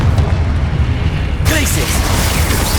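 Confringo explosion spell cast in the Hogwarts Legacy video game, a loud booming blast with a sharp shift partway through and rumbling, dense noise continuing after, set among game effects.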